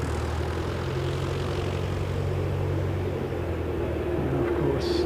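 Light aircraft ZK-EYA departing, a loud steady engine drone with low propeller hum, continuous and close, dominating the whole stretch.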